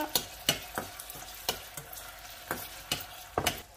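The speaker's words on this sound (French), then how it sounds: "j'ai mis l'huile. Je vais mettre les oignons. Hop. On laisse bien frire." Onions cooking in oil in an All-Clad pan give a quiet, faint sizzle, broken by a series of sharp clinks and scrapes from stirring at irregular intervals.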